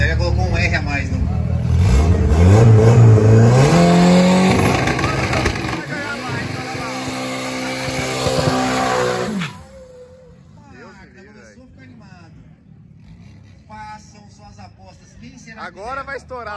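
An Audi S3 in a street drag race roars as it accelerates hard and the pitch climbs through gears, then the engine noise drops away, leaving crowd chatter and voices.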